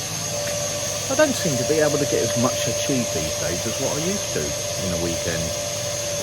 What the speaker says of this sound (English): sorry about the noise of the hoover, I'm doing the filters.